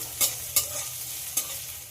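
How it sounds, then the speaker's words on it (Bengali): One large onion, chopped, frying until brown with cumin in a pan: a steady close sizzle broken by three sharp spatula scrapes. "পেঁয়াজটাকে একটু ব্রাউন করে ভেজে নিতে হবে।"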